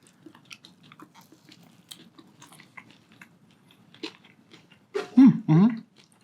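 Two loud, crisp crunches of someone biting into crunchy KFC honey fried chicken in Hawaii, following a stretch of quiet mouth and chewing noises.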